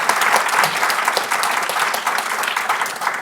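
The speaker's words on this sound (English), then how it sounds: "Please give them a nice round of applause to welcome them on stage" Steady, full applause from a seated audience welcoming panelists onto the stage at an energy history talk, sustained and even throughout with no voices over it.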